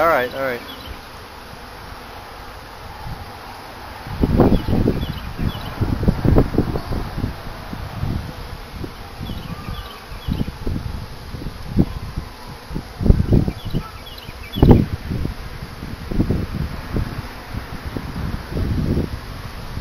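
A honeybee swarm moving into a swarm trap box buzzes loudly and close, a dense droning hum with bees passing near the microphone, plus rustling and wind bumps.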